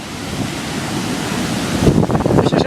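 Strong hurricane wind roars on the Isle of Man seafront, a loud continuous broadband rush with wind buffeting the microphone, growing gustier and more turbulent toward the end.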